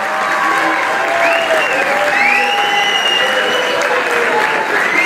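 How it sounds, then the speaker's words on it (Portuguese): An audience at a school excellence evening in Mação claps for the top-scoring eighth-grade students, a steady, loud, continuous round of applause with a few faint voices and a whistle rising above it. "um salve de palmas"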